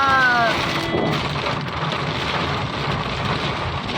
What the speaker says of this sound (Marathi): पाऊस आला खूप जोरा